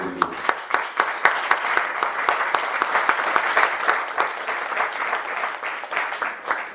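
A church congregation applauds together during a Spanish-language church structure conference session, with dense, steady clapping that carries on across the whole stretch at a moderate level, with no voices breaking through.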